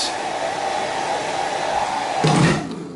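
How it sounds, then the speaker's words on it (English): A hair dryer blows with a steady, airy whir throughout, growing briefly louder and rougher near the end before easing off. "hairdryer for those people who wish to preen their bouffants."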